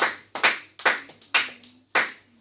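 Clapping in a church service: a handful of sharp, loud claps in an uneven rhythm, each ringing out with a short echo in the room.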